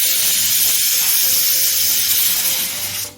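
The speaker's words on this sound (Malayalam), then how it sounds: "വിസിൽ വന്നു." A pressure cooker of sambar lets off a loud, steady steam hiss, a continuous rushing whistle that holds for about three seconds before tapering off, with no one talking.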